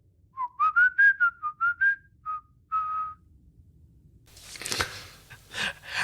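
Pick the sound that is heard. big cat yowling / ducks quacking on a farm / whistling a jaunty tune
whistling a jaunty tune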